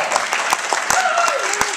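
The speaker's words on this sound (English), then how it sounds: "Are you going to applaud and cheer and say, what a great action, man?" Audience applause with scattered cheering at a live talk, sharp clapping bursts over a steady wash of hands, with a faint voice running underneath.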